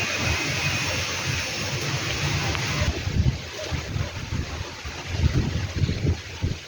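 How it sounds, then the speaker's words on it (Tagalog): Gusty wind sweeps across an outdoor house terrace, a broad rushing roar with irregular low buffeting bursts against the microphone. "Mahangin."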